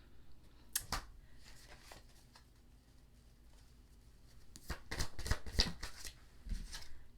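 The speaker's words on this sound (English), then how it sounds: "let's pull another card here" Tarot cards are shuffled in quick bursts of papery riffling and flicking, one short flurry early and a longer run of crisp shuffles toward the end, close and fairly quiet with no talking.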